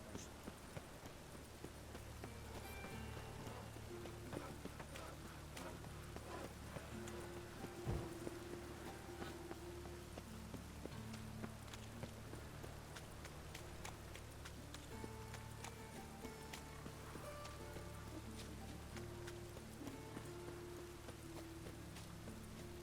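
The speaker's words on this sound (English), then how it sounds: "Rain was coming." Rain in The Witcher 3 video game patters softly and steadily, with scattered drip ticks, faint distant thuds and low tonal background hums, and no speech over it.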